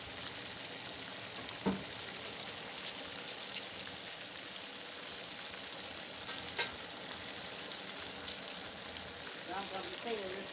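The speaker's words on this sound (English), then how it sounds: "y'all watch that simmer for me" Meatballs in gravy simmer in a pan with a steady soft bubbling sizzle throughout, a few brief clinks and scrapes rising over it now and then.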